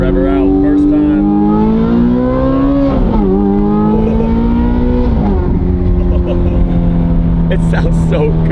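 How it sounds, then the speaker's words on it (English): A Ferrari engine revs loudly up through climbing pitches, dipping at shifts and rising again, close and sustained, with voices talking over it near the end. "Let's rev her out first time."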